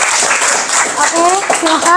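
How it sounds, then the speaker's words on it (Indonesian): Students in a classroom give scattered applause for a classmate while a speaker's voice talks over the clapping, which stays moderate and fairly close. "Ayo tepuk tangan untuk Gadiza."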